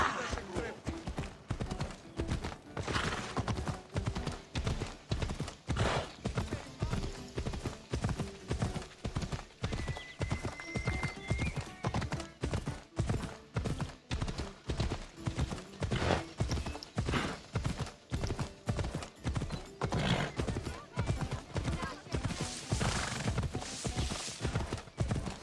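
Horse hooves clip-clop steadily in Assassin's Creed Odyssey, a dense rhythmic trot of rapid, evenly spaced hoofbeats running throughout, with occasional whinnies and game voices speaking over the top.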